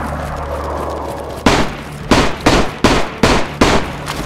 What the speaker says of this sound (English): Alright, he's shooting zombies.